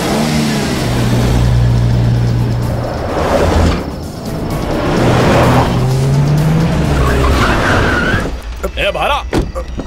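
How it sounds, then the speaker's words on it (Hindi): Several cars accelerate and rev in a chase, with engine roar, tire squeal and passing vehicles running loud and continuous, ending in a brief quieter stretch with scattered noises; music or voices may mix in. "हम सब लोग अपनी गाड़ियों को लेकर उसका पीछा करने लगे"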